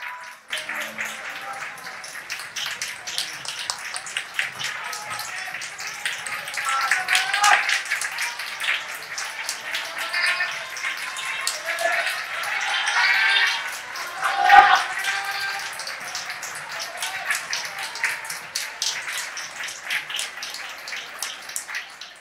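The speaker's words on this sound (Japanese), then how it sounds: "皆さん拍手で" A hall audience at a political party leadership debate applauds as the candidates leave, with dense, continuous clapping from many people that swells near the middle and stays at a moderate, roomy distance.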